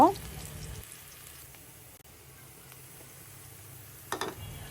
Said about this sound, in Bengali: তো কড়াইতে আমি কিছু তেল দিয়ে দিচ্ছি এখন দিচ্ছি পেঁয়াজ কাঁচামরিচ এবং রসুন খুব কুচি কুচি করে কেটে আমি দিয়েছি এখন ব্রাউন কালার করব